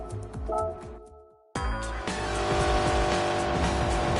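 A classic Formula 1 car in Gran Turismo 7 drops to near silence, then a loud engine cuts back in with a hard, sustained roar and tire noise that carries on without a break.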